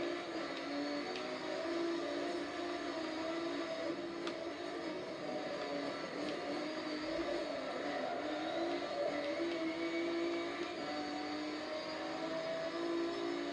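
A Honda 4x4 engine in the racing game Forza Motorsport 7 drones steadily at a constant, moderate pitch throughout, a continuous motor hum with no voices over it.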